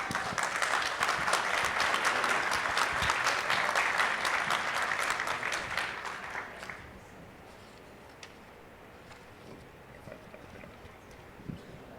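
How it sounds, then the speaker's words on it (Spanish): An audience at a petrochemical industry panel forum applauds a panelist: dense, sustained clapping for about seven seconds, then it fades into a quiet room with a few scattered sounds. "Por favor, un aplauso también para el ingeniero Luis."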